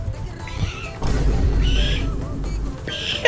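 A man imitates bird calls, mimicking a duck's quack and a sparrow's chirp in quick, squawky bursts against a noisy low rumble, with short whistling tones repeating near the start, middle and end.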